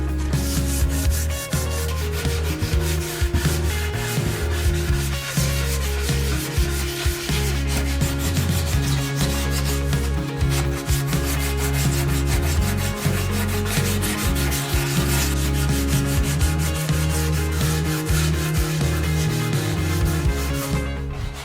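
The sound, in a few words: wet sanding with 600 grit sandpaper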